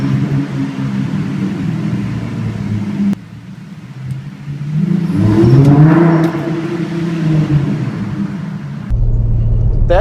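Car engine fitted with TB Built ported intakes revving, a close rumbling idle that swells into a rising rev with a whistling tone on top, then settles back to idle.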